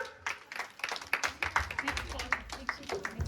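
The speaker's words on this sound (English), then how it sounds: "good claps to Clap for Ananya" Scattered hand claps from a group at a school children's day celebration, honouring a young child, a dense run of quick uneven claps at moderate distance with a voice speaking over them.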